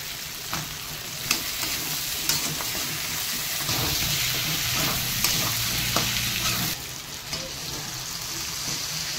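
Spiced paste of pepper, ginger, cumin and green chilli with added tomato sautéing in a pan for hilsa fish curry, a steady close sizzle with scraping stirring strokes throughout, no voices.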